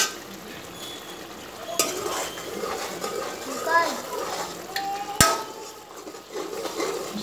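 Chole masala (Ramdev brand) stirred into a frying mix in a pan, giving a soft sizzle with scraping and clinks of a spoon against the metal, heard under a person talking.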